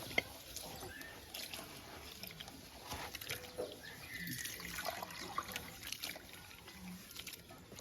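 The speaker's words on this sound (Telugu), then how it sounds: "సామ బియ్యం అనేది బాగా కడుక్కోవాలండి." Millet being washed in water, with faint trickling and sloshing close by, soft and intermittent.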